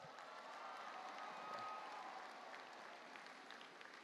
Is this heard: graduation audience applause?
yes